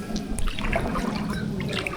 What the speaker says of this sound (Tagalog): Guys, ilog yan.